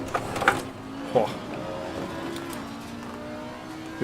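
A race car engine in an online racing game revs faintly beneath steady engine drone, with a couple of brief louder bursts early on.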